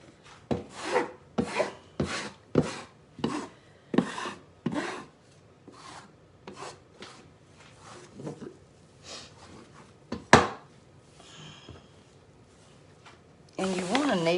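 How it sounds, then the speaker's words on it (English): Dumpling dough for chicken and dumplings being kneaded by hand, with a steady run of rhythmic rubbing, pressing strokes close by, a few sharper thumps later, and a brief voice near the end. "you want to knead this, y'all, until it's not real sticky"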